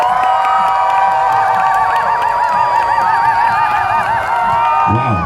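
A crowd at a parkour competition at the CNE fairground roars and cheers to test an applause meter, a loud sustained mass of shouting and whooping with high wavering screams, continuous from start to finish.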